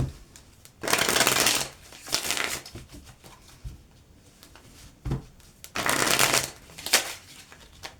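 Playing cards riffle-shuffled in several quick bursts, each a crisp fluttering rush, with short pauses between and no talking.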